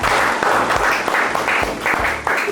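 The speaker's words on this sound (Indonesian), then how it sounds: "Beri tepuk tangan buat mereka berempat" A studio talk-show audience applauds steadily, the clapping dense and continuous, with a faint pulsing rhythm running through it.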